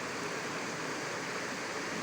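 A river at Puncak Cisarua flowing steadily, a dense even rush of water with no variation, heard alone over two seconds.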